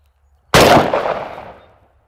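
A single rifle shot from a V5 firing Ammo Inc .223 frangible rounds cracks out close and very loud, its sharp report decaying into a rolling echo over about a second and a half, with quiet before it.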